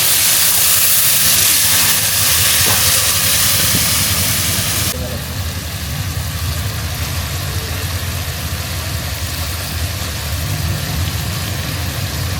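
Water poured onto chicken cooking in a hot pan outdoors, village style, sends up a loud, dense steaming hiss for several seconds before it settles into a quieter, steady sizzle while people talk nearby.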